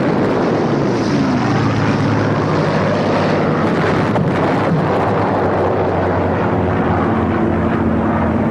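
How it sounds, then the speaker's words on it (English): Heavy propeller bombers drone overhead in a continuous, loud, steady roar mixed with wind buffeting, during the pre-invasion bombing of Tarawa, with no voices. "400 planes begin around-the-clock bombing."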